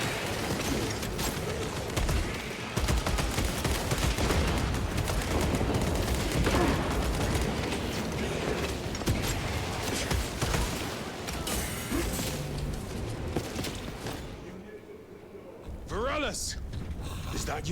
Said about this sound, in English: Trying out the melter rifle,